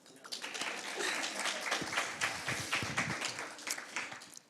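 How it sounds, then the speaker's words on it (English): Audience applause at a synagogue annual meeting, a fairly quiet burst of many hands clapping with distinct individual claps standing out, building quickly and holding steady for several seconds. "Applause."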